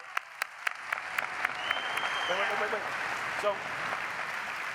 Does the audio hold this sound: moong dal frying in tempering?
no